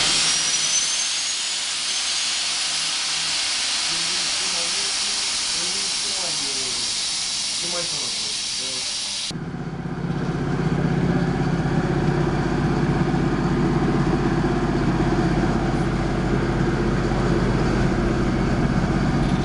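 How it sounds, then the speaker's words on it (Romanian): Locomotive air compressors run at Câmpina train station, first as a loud steady hiss, then switching to a deep, throbbing mechanical rumble that continues to the end. "Concurs între compresoare, când pornește alu aia, când pornește alu asta."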